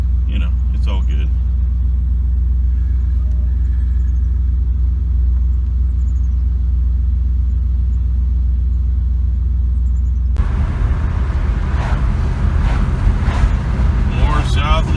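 A 1971 Mercury Monterey cruises along a road in South Louisiana, making a steady, deep engine and road rumble with some wind noise. The sound grows brighter and rougher near the end.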